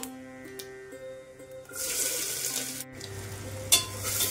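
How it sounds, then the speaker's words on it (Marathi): Chopped onion hits hot oil with cumin in a pan for pav bhaji and sets off a sudden loud, hissing sizzle that continues steadily. Faint tonal hum comes before it. "आता आपण यामध्ये कांदा टाकून घेऊया।"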